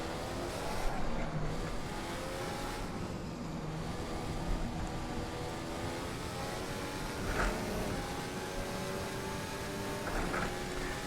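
A Ferrari F14 T Formula Corsa single-seater howls around a track in Assetto Corsa, its high-revving engine droning steadily with rising and falling pitch through upshifts and downshifts, close and continuous across the lap.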